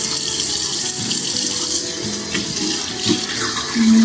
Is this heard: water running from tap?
yes